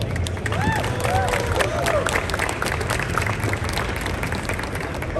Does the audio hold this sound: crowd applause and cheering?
yes